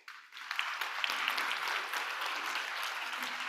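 Applause from an audience at a youth forum opening ceremony, a brief swell of clapping that rises quickly and holds steady at a moderate, somewhat distant level.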